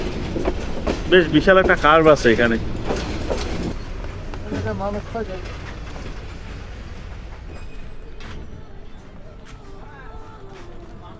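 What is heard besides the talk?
Mahanagar Express train slowing toward Brahmanbaria station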